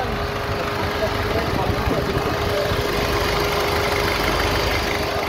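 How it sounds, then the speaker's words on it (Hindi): A Ford Fiesta engine runs steadily after an overhaul in a car repair garage, giving a constant, loud mechanical drone with a faint hum and no clear changes in revs. "फोर्ड फिएस्टा कार है, और अभी ये ट्रायल ले रहे हैं"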